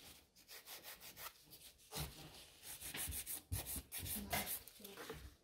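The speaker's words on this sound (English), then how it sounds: "So I'm filing again one side, other side, shorten the free edge." Nail file working over gel nails, a soft rhythmic scratching of repeated strokes back and forth, close and fairly quiet, with no speech.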